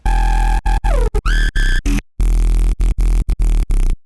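Choppy electronic synth tones from Serum 2 cut into short stuttering bursts, with pitch sweeps and bends, a brief gap, then more rhythmic gated stabs.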